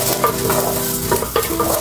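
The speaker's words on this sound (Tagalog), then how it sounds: "Lagay ko na yung sibuyas sa bawang." Onion and garlic sizzle and crackle steadily in a clay pot, with a few soft stirring scrapes over the continuous close frying hiss.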